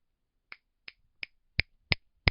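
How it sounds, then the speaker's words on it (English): Six sharp finger snaps ring out close and alone at an even, unhurried pace, each crisp click growing slightly louder than the last against near silence. "Why am I snapping my fingers?"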